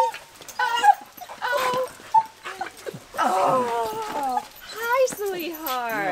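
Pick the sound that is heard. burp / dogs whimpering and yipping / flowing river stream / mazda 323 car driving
dogs whimpering and yipping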